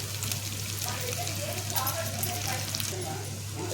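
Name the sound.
bottle gourd pieces frying in oil with lentils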